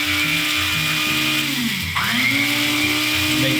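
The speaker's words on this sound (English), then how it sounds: "grind this out very fine." An electric grinder grinding coriander seeds for bread spice, a loud whirring motor whose pitch sags and then climbs back as the seeds are milled, heard close and continuous.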